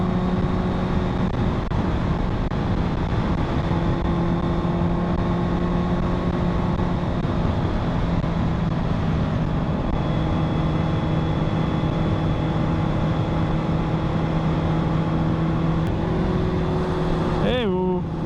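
A Honda inline-four engine held at high power, giving a loud, steady, humming drone with a sharp change in pitch right at the end.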